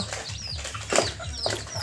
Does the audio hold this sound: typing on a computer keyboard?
no